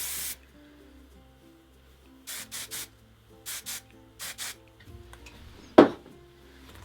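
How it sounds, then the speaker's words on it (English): Short, sharp bursts of hairspray hissing close by as hair is lifted and sprayed underneath: one burst at the start, then two quick clusters of several puffs, with quiet gaps between. "I like to lift up the hair, kind of spray underneath to add separation."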